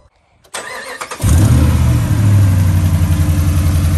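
A Ram 5.7-litre V8 with a cold air intake fitted and an exhaust manifold leak starts up loud and close. A brief cranking whir is followed by the engine catching with a roar, then settling into a steady, slightly uneven idle.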